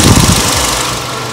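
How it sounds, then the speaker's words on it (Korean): LPG-fuelled Kia Lotze Innovation mid-size sedan engine idling, a steady low rumble loud and close with no talk over it. "엔진 소리 한번 들어보도록 하겠습니다"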